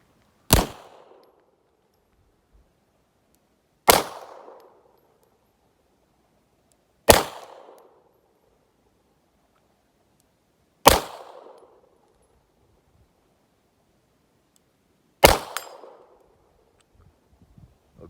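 Five single pistol shots firing suppressor loads ring out a few seconds apart, each a sharp, loud crack with a short decaying tail and quiet pauses between.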